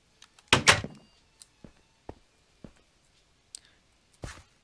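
A wooden door opens in the Minecraft game world, with a loud clack and creak near the start followed by several short, soft clicks and taps spread across the rest of the moment, with no talk over it.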